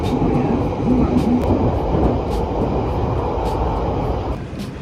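Inside a London Underground metro carriage on a weekend trip to London, a loud, steady rumble and roar of the running train fills the clip, with brief squeals and faint voices in the background.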